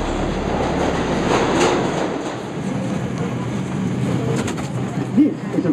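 A Bronx-bound 2 train on the New York subway roars steadily along the tracks, a loud continuous rumble with squeaks and a brief clunk near the end.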